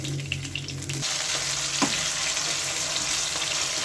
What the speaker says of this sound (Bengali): আরও তিনটি মাছ দিয়ে দিলাম এগুলিও ভেজে নেব এরকমভাবে কড়া কড়া করে